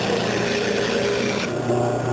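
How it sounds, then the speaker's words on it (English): A stationary disc sander grinds steadily against the outside of a wooden bowl, a continuous loud rasping hiss that shifts in tone partway through. "A stationary disc sander or belt sander provides one of the easiest ways to sand the outside"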